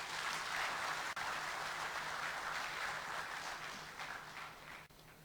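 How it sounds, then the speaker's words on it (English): A town hall meeting audience of Ghana's economic team applauds in a dense, continuous patter that stays fairly faint and even for the whole stretch, easing slightly toward the end. "Let's welcome him with a round of applause."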